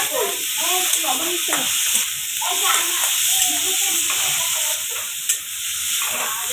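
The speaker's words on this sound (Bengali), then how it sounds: "পেঁয়াজটা রসুনটা সরিষার তেলে ভেজে নিচ্ছে" Chopped onion and garlic sizzle and spit steadily in hot mustard oil while being stirred at a picnic cook-up, a continuous bright frying hiss with a voice talking over it.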